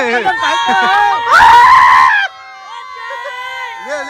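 People shout loudly outdoors during kite flying. A sustained high-pitched yell rises over the general chatter and cheering voices, then the voices drop back to talking.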